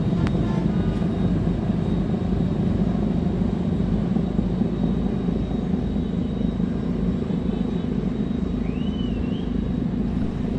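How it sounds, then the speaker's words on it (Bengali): The large passenger launch Prince Chawla 10 passes under Postogola bridge on the Dhaka–Barisal river route, its engine a loud, steady, low rumbling drone filling the whole stretch, with a faint high whistle briefly heard near the end. "এই মুহূর্তে যেটি দেখতে পাচ্ছেন Prince Chawla 10 launch Postogola bridge অতিক্রম করে যাচ্ছে"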